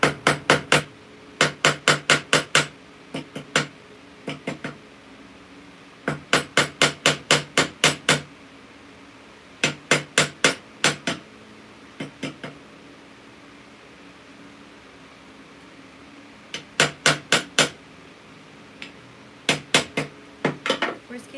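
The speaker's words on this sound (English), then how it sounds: "I'm gonna hammer" Bursts of sharp metallic hammer blows on the sides of a metal jewelry piece at a soldering bench, struck in quick runs of several taps separated by short pauses, close and clear.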